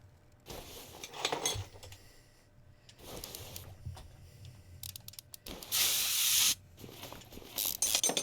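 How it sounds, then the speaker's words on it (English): Several short hissing bursts of WD-40 spray in the Car Mechanic Simulator 2021 video game, irregular and close, with a longer louder spray near the end amid faint clinks of parts. "Lot of WD-40."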